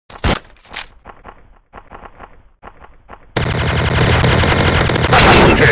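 Rapid bursts of TMP submachine gun fire in a Special Ops match, opening with short spaced volleys and then breaking into a loud, sustained stream of shots with clinking spent casings.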